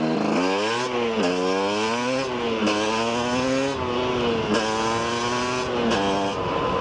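A 24 MX dirt bike's engine revs hard and loud, repeatedly climbing and dropping in pitch as the throttle is worked, with no voices.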